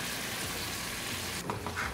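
Shrimp cooking with spices in a pan, a dense steady hiss of frying with a brief softer stir near the end, no voices.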